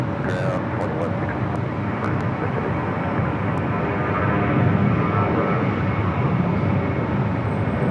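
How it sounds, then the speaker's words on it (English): A 26-year-old Silkway West Boeing 747-400 freighter arriving at LAX gives a heavy, continuous engine rumble that grows slightly louder midway, with a person speaking over it. "Silkway West Airlines, flight 5791, coming in from Huntsville, Alabama. It's a 26-year-old 747-400 freighter."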